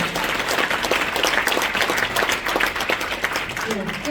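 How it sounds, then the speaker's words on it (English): Audience at a business association event applauding its volunteers, a lively spread of individual claps with some voices mixed in. "Round of applause for all of my volunteers"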